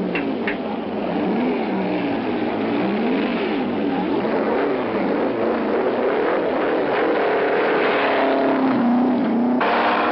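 A vintage Alfa Romeo P2 race car engine at the pits, with a strained, wavering engine note rising and falling on an old, band-limited recording and no voices.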